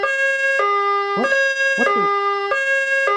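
A loud two-tone ambulance siren effect alternates between high and low pitches in a steady hi-lo cycle, with a man's short exclaimed words breaking in over it.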